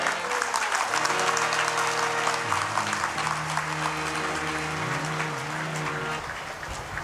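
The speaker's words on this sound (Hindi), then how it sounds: "प्रेम से कलाकारों के लिए हमारे ताली बजाओ।" An audience at a live Ram Katha religious gathering in Ramnagar, Bihar claps for the performing artists, a dense sustained burst of applause over a held musical drone, tapering slightly near the end.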